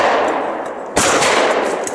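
A single sharp gunshot cracks out close by, loud and abrupt, followed by a lingering noisy rumble of its echo.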